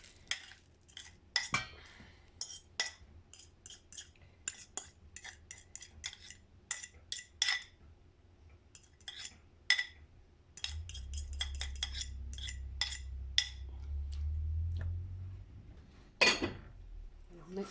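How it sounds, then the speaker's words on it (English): Cooked sweet potato and kidney beans being mixed into an oat burger mix, with scattered sharp clinks and scrapes of a utensil against a bowl, then a steady low stirring rumble, fairly quiet overall. "now we'll add in the cooked sweet potato and those kidney beans"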